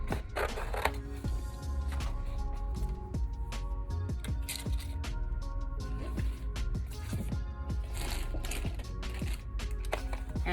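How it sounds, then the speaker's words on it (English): Scissors roughly cut basket-patterned cardstock in a crafting session: quiet, close snips and paper rustles that repeat in an uneven rhythm. "I'm gonna go back to that basket cardstock, but this time I'm gonna use this side. I'm just gonna roughly cut it out"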